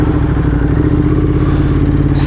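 A motorcycle engine, just back from having its radiator repaired, rumbles loudly and steadily up close, idling with a throbbing low pulse throughout.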